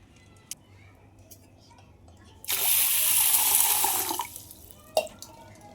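Sprouting grains being rinsed in water, a brief burst of splashing and running water lasting under two seconds, with small clicks and taps before and after in a quiet kitchen.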